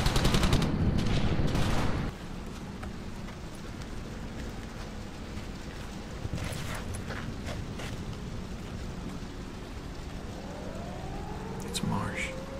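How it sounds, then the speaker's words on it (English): Gunfire from the video game Brothers in Arms: Hell's Highway, from a burning building, crackles in a dense rapid burst at first, then a steady rumbling background of scattered distant shots continues, with faint rising whistles near the end. "Gunfire from a burning building."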